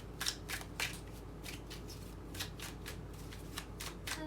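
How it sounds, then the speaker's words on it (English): A deck of tarot cards being shuffled close up, with quiet repeated riffling and sliding bursts in an uneven rhythm, and no voice. "There's so many cards, I want to make sure they're good and shuffled"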